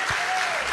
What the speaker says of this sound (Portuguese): Eu acho que ela merece uma boa salva de palmas de todos nós, né?